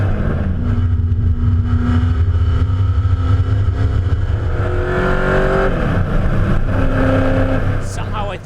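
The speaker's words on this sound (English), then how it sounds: "you start the engine and the whole car becomes alive" A Ford GT40 race car engine idles and revs loud and close at the Goodwood Revival, its steady low rumble rising in pitch through a burst of throttle before easing back down.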